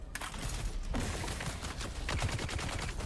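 Rapid SMG gunfire in the video game Dune: Awakening, a loud close burst of quick shots rattling continuously with a short break near the one-second mark before firing resumes.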